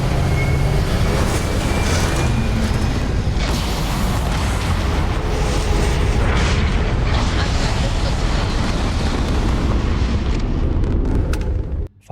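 A large explosion in the video game Starfield's Terran Armada DLC roars as a loud, sustained rumbling blast with crackling debris for about twelve seconds, cutting off abruptly at the end.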